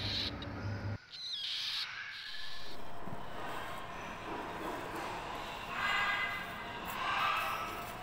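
A weak, dirty lory parrot chick gives thin, raspy calls in short bursts over steady background hiss, moderately close and faint.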